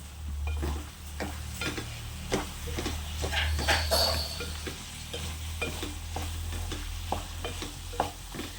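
Potato and capsicum curry stirred with chilli powder and salt in a pan, a spoon scraping and tapping in a regular rhythm over a soft, constant sizzle, close and fairly quiet.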